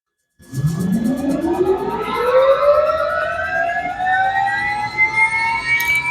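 A helicopter turbine spools up in front of a hangar, a loud rising whine that sweeps steadily upward in pitch over several seconds as the engine starts and the rotor begins to turn, with no talk.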